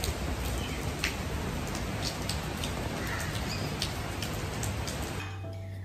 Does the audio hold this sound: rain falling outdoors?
yes